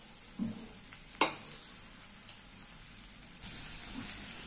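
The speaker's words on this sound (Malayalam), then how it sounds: "ആദ്യം എണ്ണ ഒഴിച്ചു കൊടുക്കാം. ഇഞ്ചി, വെളുത്തുള്ളി, പച്ചമുളക് ഇത്ര നമുക്ക് ഇട്ട് കൊടുക്കാം." Ginger, garlic and green chilli frying in hot oil, a steady close sizzle with a sharp clink of a utensil early on and light stirring, no talk.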